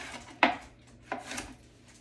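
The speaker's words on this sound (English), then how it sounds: "I'm just chopping the kind of corners off of the top." A knife chops food on a cutting board, with two distinct sharp knocks about two thirds of a second apart and a lighter scrape after, close and clear.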